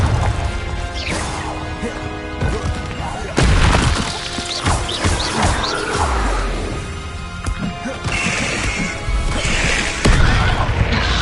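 Spell impacts from Glacius and Confringo in the Hogwarts Legacy video game, a run of loud crashes, shattering hits and booms with whooshes. Spoken spell names sound between and over the blasts.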